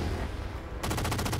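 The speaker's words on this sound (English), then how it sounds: "use that incinerator cannon, that thing's awesome." An incinerator cannon fires in Halo 4 after a brief lull, then booms in a rapid, loud series of bursts that pound on back to back. No talking.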